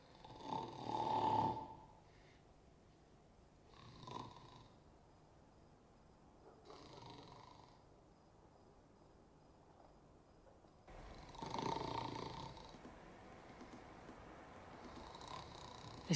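A man's slow, heavy snoring repeats at long intervals, each rasping breath rising and fading in a quiet room.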